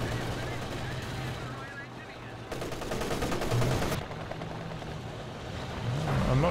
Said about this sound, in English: Oh, it must have been hold the line strafe.